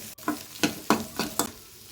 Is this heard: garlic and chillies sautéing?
yes